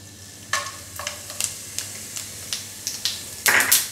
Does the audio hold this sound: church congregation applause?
no